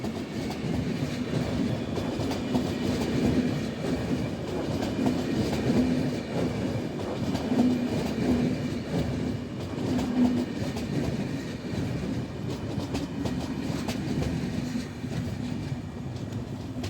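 An EU200 locomotive hauls an EIC Lech express through Warszawa Wschodnia station. A steady, loud rolling rumble of railcars with rhythmic clickety-clack over the rail joints and a faint tonal hum runs throughout.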